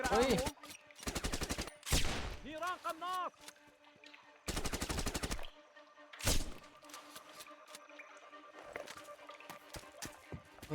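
Loud bursts of rapid automatic gunfire from an unsuppressed gun in the video game Sniper Ghost Warrior 2 come in several separate volleys, sharp and close, with game sound effects and quieter background noise between them.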